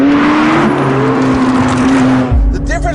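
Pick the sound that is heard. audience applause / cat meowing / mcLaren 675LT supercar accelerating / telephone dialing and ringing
mcLaren 675LT supercar accelerating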